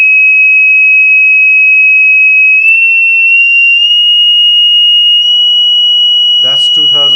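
Steady, loud sine test tone near 2900 hertz from a 5-inch subwoofer, holding one pitch with a slight upward step partway through, then a voice speaks briefly at the end.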